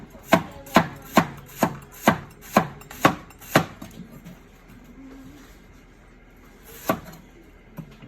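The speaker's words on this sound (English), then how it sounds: "And just do a quick slice." A kitchen knife slices through scallions on a cutting board in eight crisp, evenly spaced chops, then a pause and one final cut, with pigeons cooing faintly in the background.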